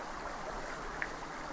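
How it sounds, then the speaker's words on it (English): A small creek flows through spruce woods, a soft, steady trickle and wash of water heard alone at low level, with one brief faint tick partway through. "indeed there is a little creek going down here"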